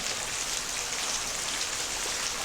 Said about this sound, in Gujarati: આપણે આમાં વરસાદ બતાવીએ તમને